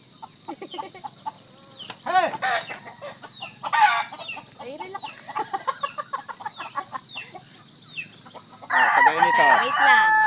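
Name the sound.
fighting rooster clucking and crowing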